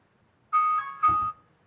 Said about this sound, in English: that's my alarm to tell us that our time is just about up for the broadcast part of it